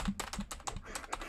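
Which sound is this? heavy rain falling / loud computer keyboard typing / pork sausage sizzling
loud computer keyboard typing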